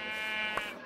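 A Minecraft sheep gives a single buzzy, nasal bleat, close and clear, with faint game ambience behind.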